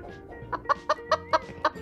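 A hen gives a quick series of about six short, sharp clucks in an even rhythm, close and clear with no talking over them.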